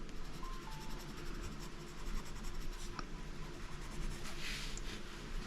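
A pastel coloured pencil is worked across paper, giving a continuous soft scratchy scraping, close and quiet, with no talking.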